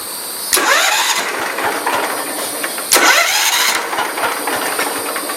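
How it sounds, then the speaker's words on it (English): The starter of a Ford LGT 125 garden tractor cranks twice over a steady engine rumble, each whine rising and then falling back, fairly close and loud with no talking. "the starter sounds like it's brand new"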